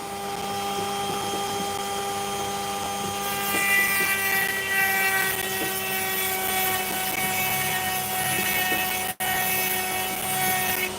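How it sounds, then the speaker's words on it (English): A Dremel rotary tool grinds opal in a continuous high whine, close and loud, the pitch steady with a rougher edge as the stone is pressed, and one brief cutout near the end. "I'm angling the Dremel towards the side I've already destroyed."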